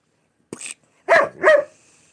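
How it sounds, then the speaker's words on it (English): A dog barks three times indoors, one short yip followed by two louder, fuller barks in quick succession, close to the listener against otherwise quiet surroundings. "Why are you barking, boy?"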